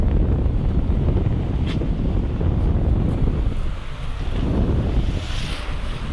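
Wind buffets the microphone continuously beside the Karnaphuli river near Kalurghat bridge, with broad rushing noise of choppy waves underneath, steady and loud throughout with no speech.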